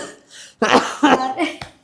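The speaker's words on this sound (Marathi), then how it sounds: "खोकला पण होत आता परत" Several sharp, close coughs in a quick cluster, with a brief pause and then a final short cough.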